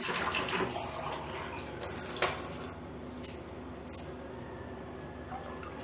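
Water from a glass poured into three glasses of rice for chicken pulao, a steady splashing wash lasting several seconds with one brief louder splash near the middle, fairly close and with no talk.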